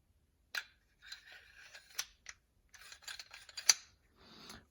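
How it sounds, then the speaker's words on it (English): Metal parts of a Ruger 22/45 pistol being handled as the bolt is replaced: a quiet series of sharp clicks, scrapes and light metallic taps. "we can replace our bolt."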